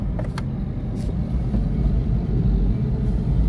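Changan Karvaan van cruising on a highway in fourth gear at about 60 with the A/C on, heard from inside the cabin: a steady low road and engine rumble with tyre noise and a few brief higher hisses.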